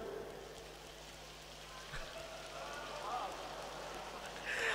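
A convention audience in Bangladesh taps two fingers against their palms together to imitate rain, making a steady, dense patter of soft clicks that swells slightly toward the end.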